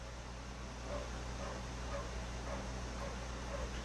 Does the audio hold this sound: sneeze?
no